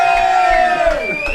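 A live comedy show audience of Quebec influencers shouts and cheers loudly in a brief burst of crowd noise, with voices whooping together.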